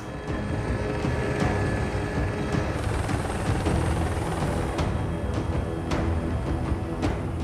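A helicopter flies over flooded Alberta terrain, its rotor and engine a steady, dense roar heard from inside the cabin, constant throughout with no voices.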